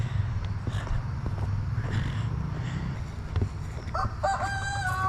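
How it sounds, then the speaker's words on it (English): A rooster crows once, a clear rising-and-held call arriving near the end over a steady low rumble and background noise outdoors, with no talking. "Please go away, rooster."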